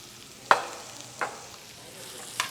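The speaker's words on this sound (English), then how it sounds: "as you see they are sizzling. You saute the onions well." Two medium sliced onions sauté in a pan for chicken biryani, sending up three short, separate sizzling bursts as they are stirred, fairly quiet and with no talking.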